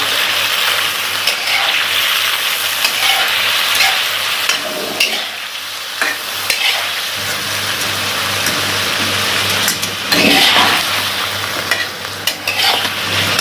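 Garlic ginger paste fries in oil in a pot for Afghani-style chicken karahi, giving a continuous close sizzle broken by occasional stirring scrapes and bursts of spattering.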